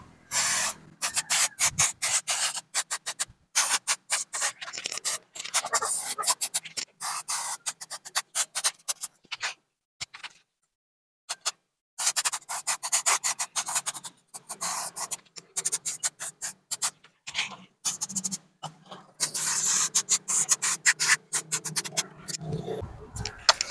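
A brush scrubs rapidly back and forth over a rusty motorcycle chain on a Sym Bonus 110 after lubricant spray, giving dense rasping strokes in bursts with a brief pause midway, close and loud.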